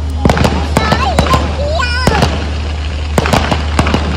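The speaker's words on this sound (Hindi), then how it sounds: "देखो कितने सारे फायर क्रैकर्स, कितने सारे स्काई शॉट्स।" Firecrackers and sky shot fireworks go off outdoors during a wedding celebration, a rapid scatter of sharp pops and bangs mixed with rising whistles, fairly close and loud over steady background noise, with voices talking.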